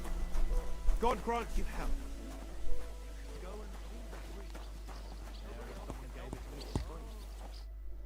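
Horse hooves clop in Kingdom Come: Deliverance 2, faint and intermittent, while characters talk over them.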